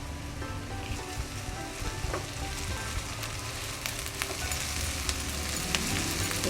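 Garlic ginger paste fries in a hot pan for an egg khagina, giving a steady, close, crackling sizzle throughout, with no voices.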